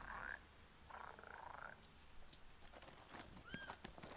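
A frog in Final Fantasy XV croaks in a few low, faint bursts near a rocky shoreline, followed by quieter scattered ambient sounds and a small chirp.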